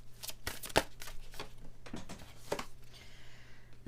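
Oracle deck cards are shuffled by hand, giving quick close riffles and soft slaps in an uneven rhythm, fairly quiet and with no talk.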